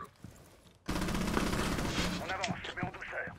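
Gunfire in Rainbow Six Siege, a sudden loud burst of rapid automatic shots after a quieter opening, then scattered clatter and impacts, with voices talking over the fire.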